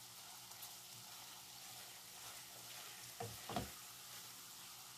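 Carrot pieces fry in oil with a quiet, continuous sizzle and crackle, broken by a couple of brief stirring knocks near the end.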